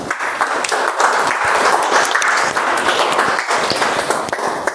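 Audience applause at a meeting: dense, continuous clapping from many hands, loud and steady throughout.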